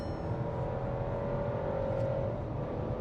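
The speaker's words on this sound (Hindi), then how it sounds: "ये देखो ये टॉर्क कन्वर्टर यूनिट का कमाल है, जो ये अभी आवाज आ रही है ना" A Skoda Kushaq SUV with a torque converter automatic gearbox accelerates hard, its engine holding a steady, loud, droning whir from inside the cabin without any talk.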